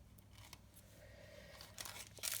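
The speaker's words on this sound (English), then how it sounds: "Get my good scissors. Just going to cut a little bit off the tip again" A pair of scissors snips a little off a tip, giving a few quiet close crisp cuts, the sharpest clipping near the end of an otherwise hushed moment.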